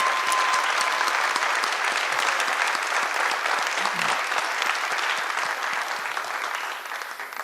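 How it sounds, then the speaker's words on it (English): An audience at a high school senior awards night applauds warmly, a dense, steady clapping that fills the room and tapers slightly toward the end. "let's give these individuals here a real big round of applause"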